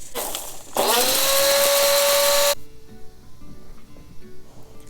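Electric grinder whirring loudly as it grinds a masala spice mix for lamb chops, starting abruptly with a rising pitch and running steadily for about two seconds before cutting off, followed by quiet kitchen handling sounds.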